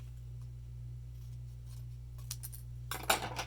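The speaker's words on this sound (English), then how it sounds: "just trim that off with a pair of scissors" A few quick snips of scissors cutting paper, close and crisp, over a steady low electrical hum.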